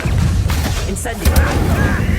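An Incendio fire spell cast in the Hogwarts Legacy game, a loud whooshing, booming burst with crackling impacts amid combat noise, with a voice speaking over it.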